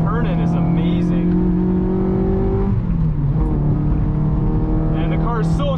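A Honda Civic Si race car on hot laps around a track, its engine droning steadily at high revs with pitch shifts as it changes speed, heard from inside the car.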